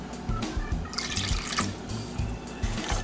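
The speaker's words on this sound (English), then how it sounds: "And a half a cup of lemon juice has been just squeezed." Freshly squeezed lemon juice poured into a bowl for lemon bars, a close, continuous liquid trickle and splash lasting a few seconds.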